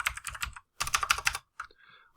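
Quick bursts of computer keyboard typing in two close, loud runs separated by a short pause, then a few isolated keystrokes, with no talk over them.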